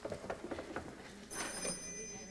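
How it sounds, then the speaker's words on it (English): Telephone ringing indoors during a 1994 stage performance of the Broadway musical Nunsense, a sustained bright ring entering midway after some stage noise, fairly faint in the hall. "Mary Leo, who is that on the phone?"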